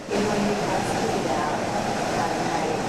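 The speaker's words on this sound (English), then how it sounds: "And the noise, like jet engines or a speeding freight train." Cyclone winds at about 190 km/h roar as a dense, steady rushing noise, loud and constant like a passing freight train, with no clear pauses.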